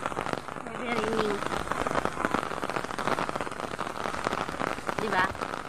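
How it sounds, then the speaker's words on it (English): Heavy rain pours steadily at Gardens by the Bay in Singapore, a dense, continuous hiss of drops striking surfaces close by, with a person talking faintly underneath. "Heavy raining."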